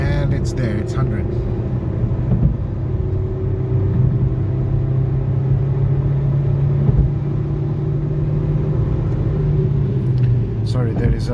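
A Toyota Corolla engine pulls hard under acceleration while overtaking in traffic, a steady loud low rumble with rising drone from inside the car, continuous throughout with some background voice.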